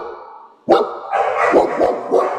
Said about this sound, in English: You can hear the growling.